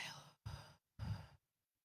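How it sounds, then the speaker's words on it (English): A person takes a deep breath in and exhales during a guided relaxation, three soft separate breath sounds, close and quiet, with short silences between them. "take a deep breath in and exhale"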